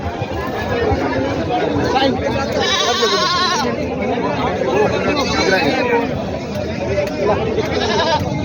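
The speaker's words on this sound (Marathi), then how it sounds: "या ठिकाणी मित्रांनो बकरी आहेत" Goats bleat repeatedly at a busy goat market in Vasmat, their calls rising over a steady hubbub of crowd chatter and nearby talking.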